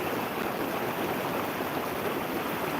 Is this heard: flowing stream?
yes